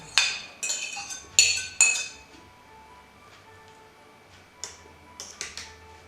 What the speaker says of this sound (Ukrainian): Фасольку також змішую і викладаю.